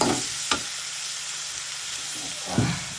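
Surma fish with pointed gourd stirred in a frying pan, a soft steady sizzle with two sharp utensil scrapes, one near the start and a longer one at the end.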